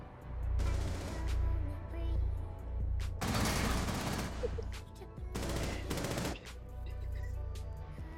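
Bursts of rapid automatic gunfire ring out in a video game, with loud sustained volleys interspersed with single shots and quieter gaps.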